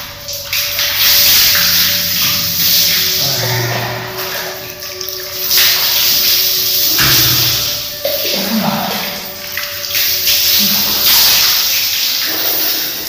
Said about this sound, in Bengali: কলের নখ ঘোরালো,